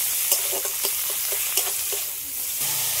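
Tomato frying with salt and turmeric in a pan, a continuous sizzle broken by repeated scrapes and taps of a stirring spoon, alone without speech.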